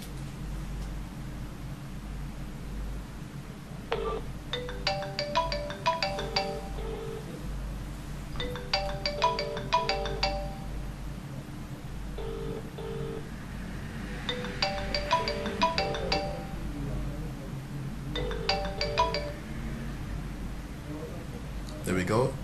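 A Telstra mobile phone rings with an incoming call, the ringtone repeating in four separate bursts spaced a few seconds apart over a steady background hum.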